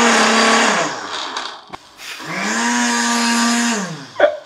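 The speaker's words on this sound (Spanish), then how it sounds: "esto se va para la licuadora" A kitchen blender motor whirs up, cuts out briefly, then spins up again for a second steady run before stopping, heard close and fairly loud.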